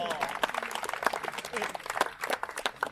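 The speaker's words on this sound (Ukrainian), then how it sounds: "Оплески Вікторії." Applause at a local district award ceremony held at a volleyball event, irregular clapping from a modest crowd with a voice speaking over it.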